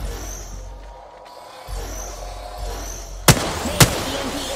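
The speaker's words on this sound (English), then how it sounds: "Shots." Two loud, sharp gunshots in the video game Apex Legends, about half a second apart, cracking out over a quiet ambient game background.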